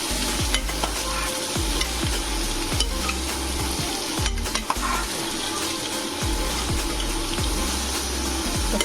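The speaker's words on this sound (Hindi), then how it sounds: "पपीते को थोड़ा सा भून लेंगे चलाकर, बहुत देर तक नहीं, 2 मिनट तक बस मैं इसको चलाते हुए भून लूँगी।" Raw papaya pieces stir-fry in a pan with a constant, fairly loud sizzle, while a utensil scrapes and knocks against the pan in a regular rhythm roughly every second.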